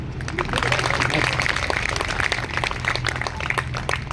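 An audience at a Hindi kavi sammelan poetry recital claps in a dense, steady patter that holds for several seconds, filling the hall at moderate loudness.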